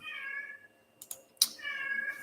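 An agitated house cat gives two drawn-out, insistent meows close by, with sharp clicks and taps between them in an otherwise quiet room.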